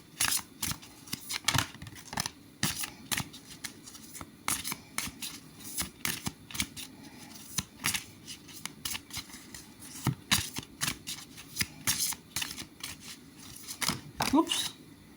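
Tarot cards being shuffled and drawn for an intuitive reading, a busy run of crisp papery slaps and flicks close up, with soft rustling between them and a voice speaking over parts of it.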